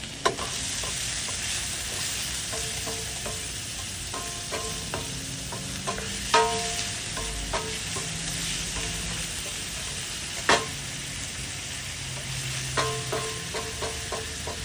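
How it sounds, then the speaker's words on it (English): Tomatoes, garlic and pepper sautéing in a pan over medium-low heat for ackee and saltfish, a steady close sizzle broken by scattered clinks and scrapes of stirring, with two sharper knocks partway through. "Now we're gonna saute this on medium to low heat"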